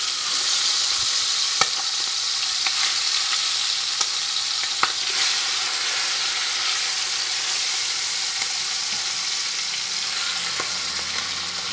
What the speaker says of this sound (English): And I'm going to brown this chicken.